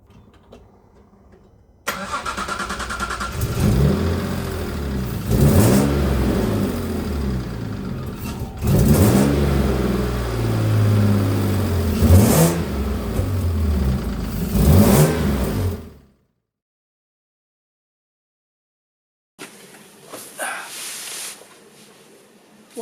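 A Jaguar AJ30 V6 from an S-type, running on an ME360 ECU in a 1971 Gilbern, revs loudly and steadily for about fourteen seconds with repeated throttle blips, cuts out abruptly, then idles briefly again near the end.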